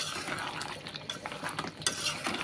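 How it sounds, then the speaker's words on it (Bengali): Fried potatoes are stirred into mutton curry in a pan, with a steady scraping, wet shuffling of spoon against metal and soft sizzling throughout, close up and without talk. "এই আলুটা দিয়েও ভালো করে কষিয়ে নেব।"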